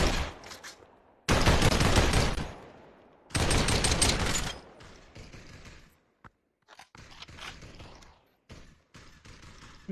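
Gunshots fired at a target post in the VR shooter Population One, coming as two long, loud bursts of rapid fire followed by scattered shorter shots and quieter clatter.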